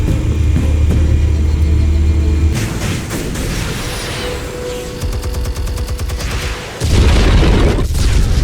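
Explosions in the Batman Telltale Series video game: heavy booming blasts with deep rumble and crackling, gunfire-like bursts, loud at the start and again near the end.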